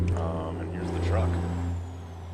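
A day-cab truck in the video game American Truck Simulator hums with a low, steady engine drone beneath a voice.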